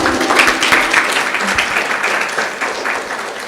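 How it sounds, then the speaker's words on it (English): A Sunday feast audience gives a big round of applause after a Bhagavad Gita class, loud, dense clapping from many hands that holds steady and then begins to fade slightly toward the end. "Let's give a big round of applause to Jishnu."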